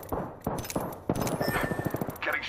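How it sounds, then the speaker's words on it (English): Rapid automatic gunfire from the video game Apex Legends, with several dense bursts of shots close up and loud, crackling through a busy stretch with little pause between volleys. "I am taking fire."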